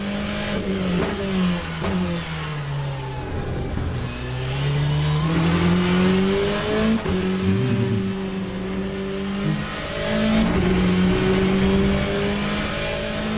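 GT race car engine in Le Mans Ultimate on track, revving up and down through gear changes in a steady cycle of climbing pitch, loud and continuous with no talk.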